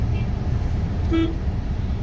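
Heavy road traffic rumbles at the wholesale coconut market in Vashi APMC. A single short car horn toots over the steady engine drone, fairly close.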